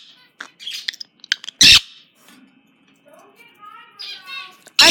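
Pet birds kept indoors give a few sharp chirps and squawks, two loud bursts standing out, mixed with soft talking and a voice nearby.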